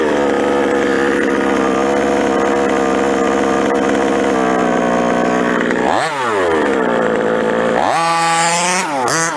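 The gas engine of a 5th-scale Associated truggy runs loud and close at a steady, buzzing quarter-throttle idle, then rises in two quick revs near the end.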